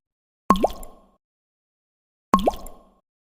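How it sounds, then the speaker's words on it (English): Black coffee drips into a cup as two distinct, resonant plops spaced about two seconds apart, each one close and clear against silence. "I watched the thick black coffee drip into the cup."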